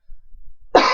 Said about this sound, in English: hate to be coughing on screen